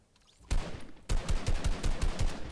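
Rapid automatic gunfire from the Fortnite battle royale video game crackles in loud, dense bursts after a brief lull, a continuous rattle of shots with no talking.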